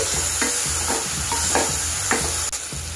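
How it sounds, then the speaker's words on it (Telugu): Finely chopped tomato frying with browned onions in a curry pan, a dense steady sizzle with repeated scraping strokes of a spoon every half second or so, close and loud with no talk. "సన్నగా తరిగినటువంటి ఒక టమాటాను కూడా వేసి 1 నిమిషం సేపు వేపుకోవాలి"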